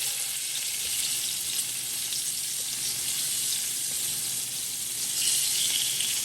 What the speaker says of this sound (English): You wanna be able to move them around and brown them on all sides.